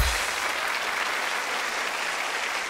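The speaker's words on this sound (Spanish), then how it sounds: "un aplauso para la gente de San Gil" A television studio audience on a Colombian talk show breaks into loud, dense applause, the clapping steady and close from start to finish.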